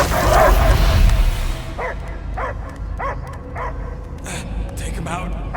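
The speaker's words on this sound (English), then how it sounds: "I hear only barking" A dog barks repeatedly in short, evenly spaced yips and woofs, fairly close, following a louder burst of rumbling noise at the start.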